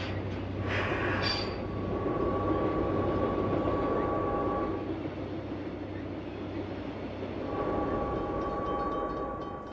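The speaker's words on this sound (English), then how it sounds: "A freight with a leading GE U-33C threads by while another commute locomotive takes a spin on the turntable." Freight train led by a GE U-33C locomotive threads past, a steady loud rumble of wheels and engine with tonal horn-like hums, close by and continuous throughout.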